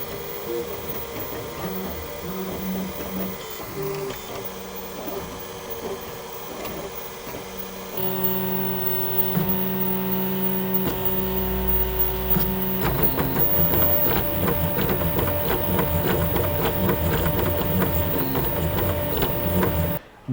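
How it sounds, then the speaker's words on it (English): Stepper motors of a Velleman Vertex K8400 3D printer whir and buzz continuously, shifting pitch as moves change, with a louder, busier stretch in the second half. "This printer is a lot noisier. Most of it is stepper motor noise."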